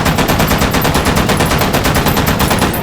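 A light machine gun in the VR game Hot Dogs, Horseshoes and Hand Grenades is fired from the hip in a loud, sustained automatic burst, shots crackling in a rapid, even rhythm for the whole stretch, with no talking.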